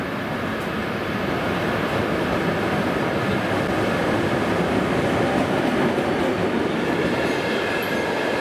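Steady rumble and rattle of a passenger train rolling along its rails on the route from Lviv toward Truskavets in the Carpathians, a dense continuous noise heard from inside the carriage with no pauses.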